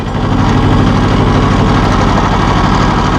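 A 1984 John Deere 650 compact tractor engine running steadily, a loud, close, throbbing low diesel idle with even vibration and no pauses.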